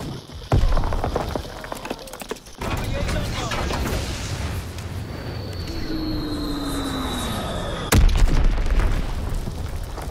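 Artillery fire booms through a Call of Duty WWII battle, sharp heavy blasts at the start and again later over a continuous roar of combat noise and a whistling shell, with voices speaking beneath.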